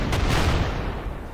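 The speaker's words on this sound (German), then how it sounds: "Oh ja, da können wir sogar noch einen Schuss abgeben." A gunshot sounds in the turn-based World War II strategy game Panzer Corps. One loud, booming blast opens and then trails off in a rumbling decay, with no talk over it.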